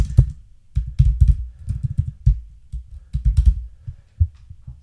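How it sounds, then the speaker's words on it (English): Computer keyboard typing in short uneven bursts of key clicks with brief pauses, close and fairly loud, with no voices. "So I'll just type something."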